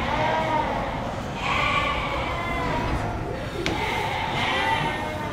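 Several goats bleating in overlapping calls over a dense background rumble, fairly close, with a brief knock in the middle.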